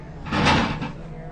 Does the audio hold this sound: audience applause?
no